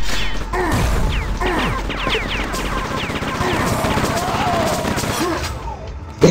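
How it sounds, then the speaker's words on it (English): Rapid chaingun fire in a Quake 2 duel, a dense stream of metallic shots and impacts running almost unbroken throughout, with game sound effects layered in and talk over it. "He's just not landing the chain gun like he was earlier."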